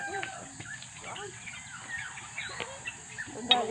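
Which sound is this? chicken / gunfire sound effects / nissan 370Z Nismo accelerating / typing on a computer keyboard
chicken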